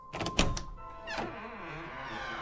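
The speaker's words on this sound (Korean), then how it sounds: "난 그대로 문을 열어버렸다" Door opened as a horror radio sound effect: a few knocking thunks and a clack, then a long creaking groan that trails off into a sustained dark resonant drone.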